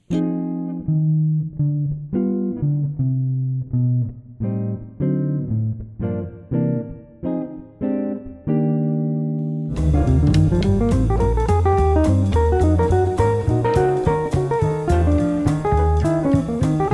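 Jazz guitar plays a tune, first as sparse chordal melody phrases, then after about ten seconds as denser full-band-like chords and lines, continuous and fairly loud with no talking.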